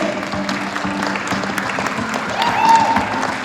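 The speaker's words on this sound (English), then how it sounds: "Please clap hands for the nations." A crowd claps steadily and densely, a loud sustained wash of applause that swells slightly toward the end.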